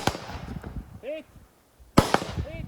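Stgw90 rifle shots hitting steel targets at a shooting competition, two sharp loud cracks with distinct metallic pings ringing after each, one early and one about two seconds later, over faint ambient noise.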